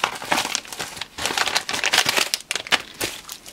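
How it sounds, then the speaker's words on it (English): A package being cut open with a RAM stick, giving a steady run of crinkling, crackling plastic-wrap sounds up close for several seconds, with short tearing bursts and no talking. "who else uses a RAM stick to cut open packages?"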